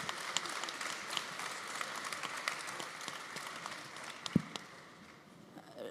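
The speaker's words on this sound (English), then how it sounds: "So yes, you can applaud him too." A large audience at the Paris Air Show claps steadily in sustained applause for astronaut Jean-François Clervoy, a dense patter of many hands with a few sharper claps standing out.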